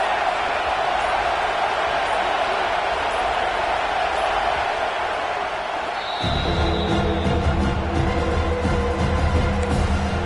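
College football stadium crowd in a steady, loud roar on third and goal, dense and sustained throughout, with a deeper rumble of noise swelling in partway through.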